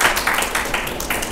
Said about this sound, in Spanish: Hermana, démosle un aplauso.